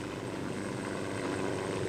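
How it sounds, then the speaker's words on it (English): Helicopters hovering over a 1984 New Zealand rally stage give off a steady, dense rotor drone with constant beating, loud and close, filling the whole stretch without any voices. "Squads of helicopters hovering behind the competitors like so many seagulls behind the farmer's plough"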